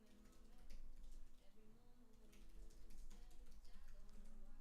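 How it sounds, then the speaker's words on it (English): Keystrokes on a computer keyboard while coding in a browser sandbox, soft irregular clicks running through the whole stretch over a steady background hum and a low murmur of voice. "I'm just typing this in."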